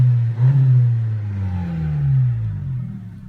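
A loud, deep, throaty car engine with a muffler delete idles with an uneven rumble, revving slightly and settling, close by with no voices.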